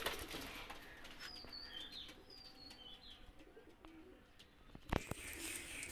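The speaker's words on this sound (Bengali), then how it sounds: "দুইটা কবুতর ছেড়ে দেখাচ্ছেন" Pigeons coo softly in a quiet outdoor setting, then a sudden burst of wings flapping as two high-flyer pigeons are released and take off, followed by a few more flutters.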